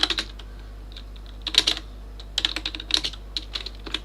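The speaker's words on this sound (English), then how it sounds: "Let me write it down." Computer keyboard typing in short irregular bursts of crisp key clicks, close and moderately loud, separated by pauses over a faint steady hum.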